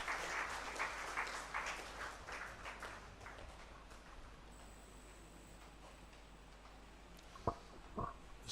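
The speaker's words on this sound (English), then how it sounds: "Let's give her a round of applause." Audience applause at a family justice summit, greeting an ambassador as she is welcomed. Dense, steady clapping fills the room, then thins out into a few scattered claps and small knocks.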